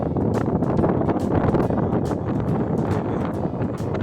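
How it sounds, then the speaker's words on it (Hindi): Strong, steady wind roars across the microphone at Lakshman Jhula suspension bridge in Rishikesh in the early morning, a continuous loud rushing with gusty buffeting throughout. "मस्त और तेज़ ज़ोर से हवा चलती हुई"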